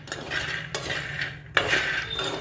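Peanuts are stirred on a hot griddle left on a switched-off gas stove, giving three close bursts of dry rattling and scraping against the metal.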